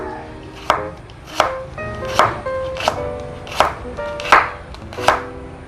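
Ginger julienned very thin with a knife on a cutting board: seven evenly spaced, crisp chops close by, alone with no talk.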